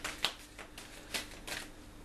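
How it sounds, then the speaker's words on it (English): Tarot cards being shuffled, a smooth deck riffling in a few quick papery bursts with soft rustling between them, close and fairly quiet. "These are such lovely cards to shuffle."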